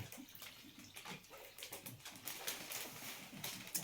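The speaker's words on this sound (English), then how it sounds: "Get my water, and then tip it through the centre." Water is poured from a jug into the centre of a Grinch-themed flower bouquet, soft irregular splashing and trickling, quiet and close.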